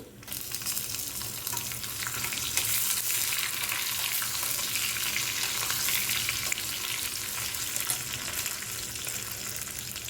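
Onions frying in hot tempering oil for a pesarapappu dal, a dense, steady, close sizzle holding evenly throughout with faint stirring, no talking.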